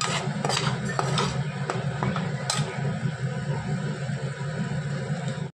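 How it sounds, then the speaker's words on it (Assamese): Spices fry in a pan for pulao, a steady sizzle with scattered metallic scrapes and clinks of a utensil stirring against the pan, close and continuous. "আৰু এইফালে মছলাখিনি ভাজিও আছোঁ"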